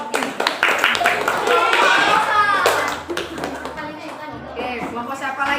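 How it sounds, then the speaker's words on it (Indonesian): Students in a classroom applaud a group during a practice teaching session, a lively patter of clapping mixed with children's chatter and voices throughout. "Oke, beri tepuk tangan untuk kelompok ini."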